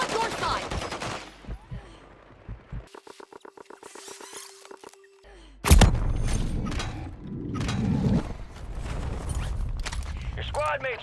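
Video game gunfire on the Fortunes Keep map: rapid automatic bursts and single cracks come near and far, with one loud close shot partway through, under shouted voices and radio chatter.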